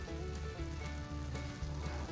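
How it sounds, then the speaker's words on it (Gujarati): Coconut mava barfi mixture with a spoonful of ghee bubbling in a pan, giving a close, continuous sizzle with gentle popping and soft stirring scrapes, no voices. "હવે આપણે આની અંદર 1 ચમચી ઘી એડ કરીશું"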